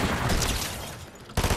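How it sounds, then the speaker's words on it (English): Rapid automatic SMG gunfire in a video game, a dense continuous burst of loud shots that briefly thins out and then resumes with full force near the end. "This SMG is crazy."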